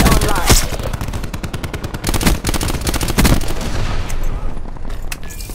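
Attack helicopter gunfire in Call of Duty, with rapid, dense bursts of automatic fire and booming impacts running nearly nonstop, loud and close, and a faint voice now and then underneath.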